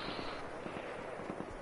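Grenade blasts in a PS4 video game: a dense run of dull explosive thumps under steady crackling noise, loud and continuous throughout without speech.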